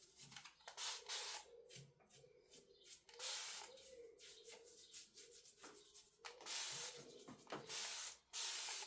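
Spray paint hisses in repeated bursts onto furniture during a makeover, loud near bursts with short pauses and a few rubbing sounds between them.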